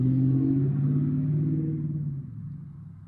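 A car engine rumbles loudly at a high idle, its pitch sagging and fading as the revs drop over a few seconds.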